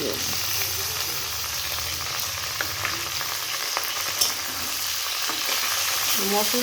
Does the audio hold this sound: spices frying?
yes